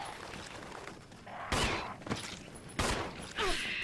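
Gunfire in the Resident Evil HD Remaster video game, several sharp loud blasts spaced about a second apart over a dense background of game noise.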